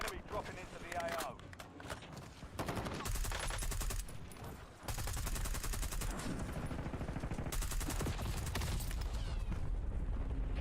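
Rapid bursts of AK rifle gunfire in a first-person shooter game, loud and sustained automatic shooting with booming impacts, while people talk over the action.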